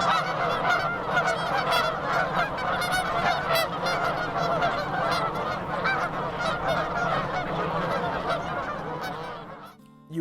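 A DRC goose call is blown in a long, rapid run of honking clucks that imitate geese, loud and close, without pause for about ten seconds and then cut off sharply.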